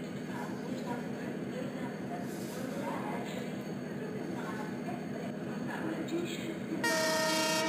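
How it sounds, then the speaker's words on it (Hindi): A WDG4G locomotive slowly reverses with an express train during shunting in Indian Train Simulator, making a low, steady rumbling drone, while a faint voice talks over it and a loud tonal horn blast sounds at the end. "ये ट्रेन बैक हो रही है रिवर्स धीरे धीरे"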